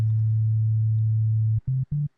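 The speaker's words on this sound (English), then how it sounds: "select Hip Hop Sub Bass, drag that here, and now I'll have a sub" A deep, pure hip-hop synth sub bass in Ableton Live holds one long low note, then two short punchy notes follow with brief gaps; clean and alone.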